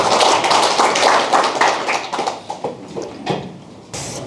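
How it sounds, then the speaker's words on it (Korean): Audience applause greets a lecturer at a Gyeongnam Confucian college lecture, a dense burst of many hands clapping that gradually thins into scattered claps before fading out. "큰 박수로 맞아주시죠."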